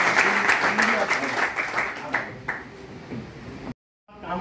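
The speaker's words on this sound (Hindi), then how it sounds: "इनकी शान में एक बार दोबारा तालियों से" Audience applause at a Delhi grocery committee (Kirana Committee) swearing-in ceremony, dense clapping that carries on steadily under a voice, then stops abruptly with a moment of silence before resuming.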